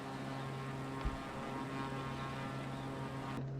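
A propeller-driven aerobatic airplane drones steadily over Madeira, a faint, continuous engine hum heard from a distance with no voices.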